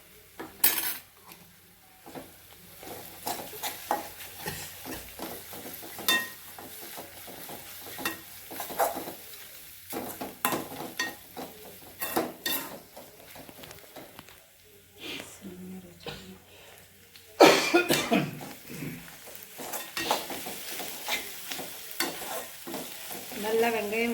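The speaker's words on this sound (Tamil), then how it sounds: "நல்லா வெங்காயம் வதங்கிடுச்சு." Onions with green chillies and ginger-garlic paste sautéing in a pan for cauliflower gravy, a sizzle under repeated scraping and clinking of a spoon against the metal pan, with talk in places.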